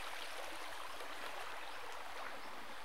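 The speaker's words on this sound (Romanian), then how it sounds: "Să mergem împreună prin părâu." Shallow stream water rushing and gurgling steadily around someone wading through it after a storm and flash flood, a close, continuous broadband wash with no talk.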